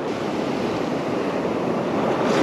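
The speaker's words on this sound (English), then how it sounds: "It's so windy this morning." Loud, constant morning wind rushes with beach surf washing behind it during surf fishing, a dense roar that swells slightly toward the end.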